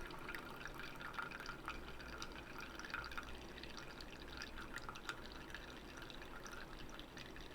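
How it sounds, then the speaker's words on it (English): Brewed coffee drips through under applied pressure in a steady, close trickle of small drops, continuous and fairly quiet throughout. "So now we're getting those drops coming through."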